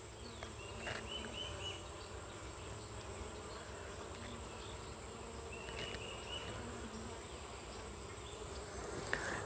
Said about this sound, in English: It's got a bunch of old bees in it though,